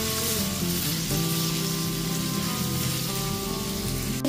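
Fried potato pieces sizzle loudly in spice masala while being mixed, a dense, continuous frying hiss with a brief clatter near the end.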